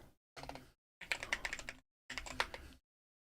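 Three short, quiet bursts of rapid clicking keystrokes on a computer keyboard, separated by brief silences, close and alone.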